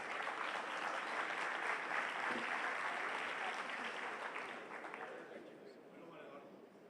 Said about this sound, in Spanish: Para ellos un aplauso, bienvenidos.